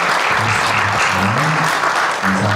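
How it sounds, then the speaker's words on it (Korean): A church congregation claps to welcome newcomers during a Sunday service, a loud, dense, continuous burst of applause filling the room, with a voice briefly audible underneath. "우리 박수로 환영해 박수"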